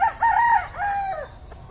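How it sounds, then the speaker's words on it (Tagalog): A rooster crows on a farm where chickens are kept in pens, two long drawn-out calls close by, with low farmyard murmur beneath. "Ang mga manok na yan,"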